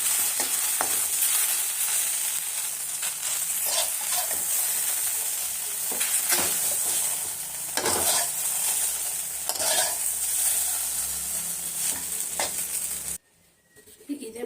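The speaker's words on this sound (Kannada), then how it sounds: "ಈಗ ಚೆನ್ನಾಗಿ ಫ್ರೈ ಆಗಿದೆ ಈ ಥರ ನೋಡಿ ಕಲರು ಚೇಂಜ್ ಆಗಿದೆ ಚೆನ್ನಾಗಿ ಫ್ರೈ ಆಗಿದೆ" Chopped okra sizzles steadily in hot oil in a pan while being stirred, with scraping sweeps recurring every second or two before the sound cuts off abruptly near the end.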